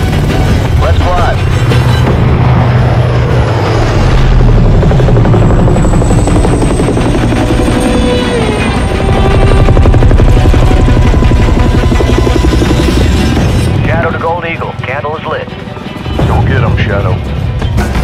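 Military aircraft rumbling loud and steady as it taxis and lifts off in a Call of Duty mission, engine roar swelling then easing, with radio chatter and voices talking over it throughout.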